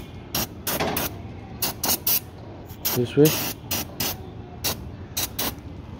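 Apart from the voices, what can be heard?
spraying alcohol-based cleaner on bike brake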